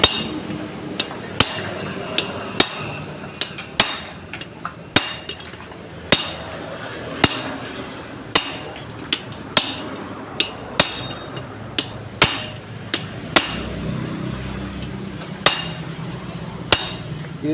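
A hammer strikes a vehicle part in a workshop, giving sharp metallic clanks at an uneven but steady pace, about one every second, loud and close with a faint ringing between blows.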